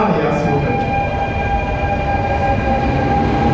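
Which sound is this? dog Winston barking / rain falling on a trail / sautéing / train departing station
train departing station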